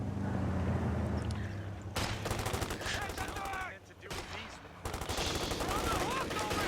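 Machine gun fire in Company of Heroes 2, long rattling bursts in a dense battle soundscape, broken by short pauses, with other gunfire and whistling sounds mixed in.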